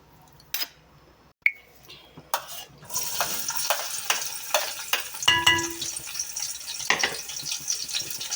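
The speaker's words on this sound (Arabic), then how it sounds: "هننزل عليه بكام فص توم قطعتهم حتت صغيره كده. هننزل بقى كده على الزيت." Small pieces of chopped garlic clove hit hot oil after a couple of clacks, then a loud dense sizzle and crackle with utensil taps and scrapes continues close up.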